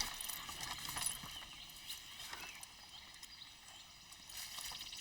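Horse hooves clip-clop at a steady walking pace, faint and somewhat distant under a soft outdoor ambience, with no one speaking.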